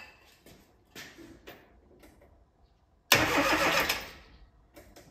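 Classic Mini engine cranking on the starter after a few quiet clicks and knocks: a single loud, close burst of whirring starter noise lasting about a second before cutting off, without catching.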